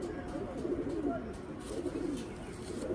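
Old-lineage tournament pigeons of Andhra, Madrasi and Kalanka breeds coo softly in a loft, low throaty rolling calls that overlap steadily at close range over a faint background hum.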